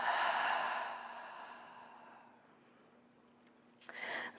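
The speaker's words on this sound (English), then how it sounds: "inhaling through the nose, and exhaling through the mouth." A slow, soft exhale through the mouth during a prenatal yoga practice, fading over several seconds, followed by a brief breathy sound near the end.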